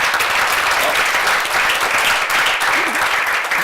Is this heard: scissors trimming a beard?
no